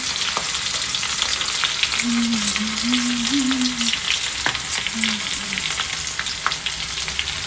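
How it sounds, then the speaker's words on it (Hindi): Garlic and dried red chillies sizzle in hot oil for a tiva bhaji saag, a steady close frying hiss throughout with occasional stirring clatter and a faint low hum in the middle. "एमा मैं अभी लहसुन और सूखा मिर्ची के फोरन दूँ"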